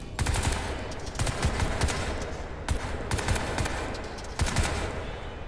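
Rapid automatic gunfire in Crysis 3, loud sustained bursts of fast shots with brief gaps between volleys, dense and close.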